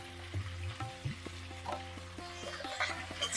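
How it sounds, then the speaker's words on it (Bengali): Unmarinated chicken pieces go into hot oil with whole spices for a quick chicken curry, setting off a soft, low-level sizzle that builds toward the end over a faint background hum. "এবারে আমি চিকেনগুলো দিয়ে দেবো।"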